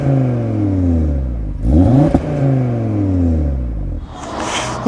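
Audi engine revving hard at an Audi owners' meet in Makov, with rising and falling harmonic sweeps of repeated throttle blips close by, loud and continuous with no talk.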